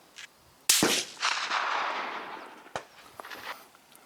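A rifle fires GP-11 ammunition at an outdoor range with a big front globe sight fitted: one loud, sharp shot rolling off into a long echoing tail, with a few faint clicks and handling noises afterward.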